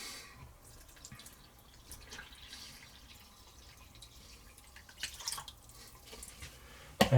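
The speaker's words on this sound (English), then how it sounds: "finally we add the 300 grams of water" Water poured into a cake mixture in a home kitchen while baking a lardy cake, a steady trickling and dripping pour heard close by and alone, with a couple of louder splashy clatters near the end.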